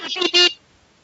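A voice makes short, bright beeping sounds in imitation of an electronic beep, two quick bursts then a longer tone, followed by near silence.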